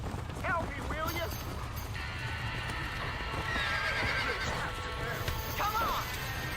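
Horses whinny and neigh in panic inside a burning barn in the Red Dead Redemption video game, several high calls over a constant roar and crackle of fire, with clattering and shouting voices throughout.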